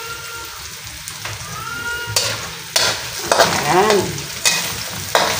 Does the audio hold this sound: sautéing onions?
yes